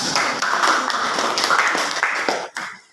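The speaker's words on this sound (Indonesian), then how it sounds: "tepuk tangan untuk kelompok 2" A classroom of students applauds group 2 after their presentation, a dense burst of rapid hand clapping that holds for a couple of seconds and then tapers off.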